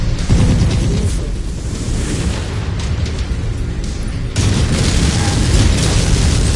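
Missile impacts in the giant-robot combat game MechWarrior 5, a loud roaring blast and rumbling wash of explosion noise, swelling again in a second heavy surge, dense and close.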